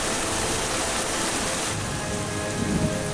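Heavy monsoon rain pours down steadily in India, a dense, continuous hiss of drops on surfaces with a low rumbling undertone, loud and close throughout with no voices.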